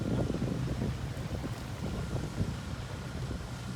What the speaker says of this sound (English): it is a little windy